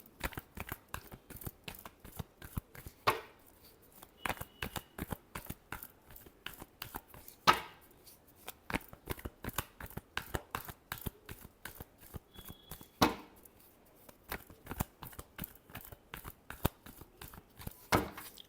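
Tarot cards being shuffled by hand, a long run of crisp, rapid flicks and riffles close to the microphone, with a few louder slaps as the deck is squared, quiet and without speech.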